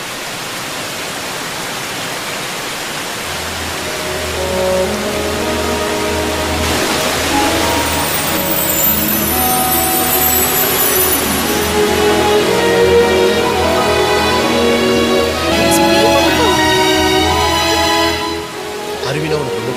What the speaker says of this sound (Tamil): அருவினா உனக்கு ரொம்ப பிடிக்குமே, அதான்.